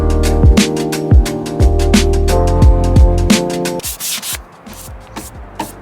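Steady rhythmic scrubbing of 220-grit sandpaper scuffing the painted metal of a Nissan 240SX engine bay, close and loud, with quick back-and-forth strokes that turn lighter and scratchier toward the end.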